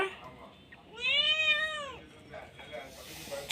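A cat gives one clear, rising-then-falling meow of about a second, close and fairly loud, with faint household noise before and after.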